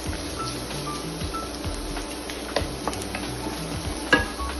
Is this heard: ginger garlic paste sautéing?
yes